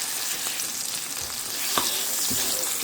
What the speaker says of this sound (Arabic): شايفين كده الاسود يتحمر جميل كيف